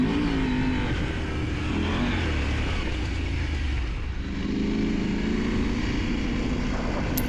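Dirt motorcycles start up and ride over rough, punishing ground during a December rally raid in the PACA region, engines revving continuously and loud up close throughout.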